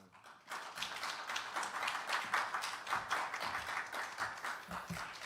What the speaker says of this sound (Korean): 선교사님 나오실 때 한 번 더 박수하겠습니다